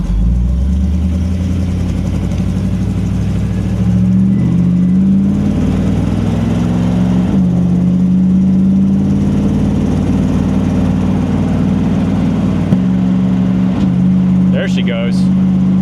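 A freshly rebuilt car engine idles steadily just after camshaft break-in, a smooth, even hum with a shifting rumble that rises and settles, while someone talks over it.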